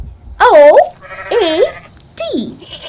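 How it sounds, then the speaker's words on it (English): A goat bleats three times in short wavering calls, loud and close, with brief pauses between them and no other sounds alongside. "a goat, when it makes sounds, it's called a bleat"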